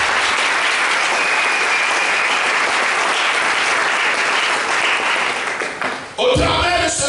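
A church congregation bursts into loud sustained applause and cheering during a French-language worship service, filling the room for several seconds before it fades and a voice begins speaking.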